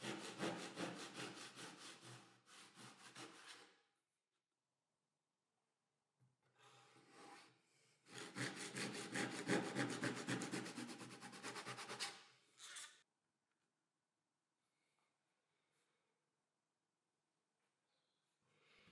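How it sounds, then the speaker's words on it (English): A hand saw cuts PVC pipe in a miter box, with two bursts of rapid rhythmic back-and-forth rasping strokes separated by a quiet pause, plus a short final stroke, close and clear. "The miter box is perfect for cutting all kinds of profiles, and not just wood, like this PVC pipe."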